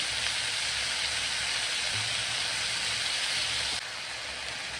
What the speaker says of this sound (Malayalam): സവാള വഴഞ്ഞു വരുമ്പോൾ ടൊമാറ്റോ ഇട്ട് കൊടുക്കുക.